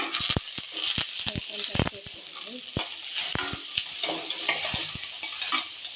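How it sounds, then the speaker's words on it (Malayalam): Onions saute in hot oil with cardamom for a Kerala-style chicken dish, a continuous sizzle broken by sharp clinks and scrapes of a spoon stirring the pan, with someone speaking over it. "നമുക്ക് ചെറുതായി എണ്ണയൊക്കെ സവാള ചേർത്ത് കൊടുക്കാം സവാള താളിച്ചുകൊണ്ട്"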